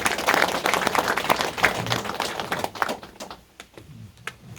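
Applause from the audience at the 22nd Jeollabuk-do organic farming convention, a dense burst of clapping that is loud at first and then thins out into scattered claps.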